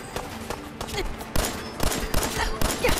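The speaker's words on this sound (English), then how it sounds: "it sounds like Piper's being attacked by someone besides super mutants. Oh, then there's some raiders" Rapid bursts of gunfire from a battle with raiders in Fallout 4, sharp repeated shots in clusters, fairly loud, with a voice talking over them.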